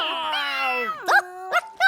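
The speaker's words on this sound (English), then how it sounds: "What a strange meow." A hungry cat gives a strange, drawn-out meow that slides downward, followed by two short, sharp chirping calls, close and fairly quiet.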